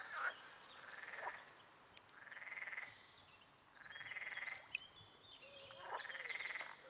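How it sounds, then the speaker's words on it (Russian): Frogs at a rocky lake give repeated croaking calls, about five rhythmic bursts spaced a second or so apart, moderately close over a quiet outdoor background. "В этом озере водятся ручные лягушки."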